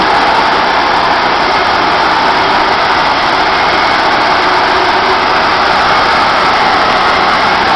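A petrol engine runs steadily on a V-belt driven cutting machine with a water-cooled blade, creeping along at low speed; a loud, continuous broadband drone holds unchanged throughout with no speech.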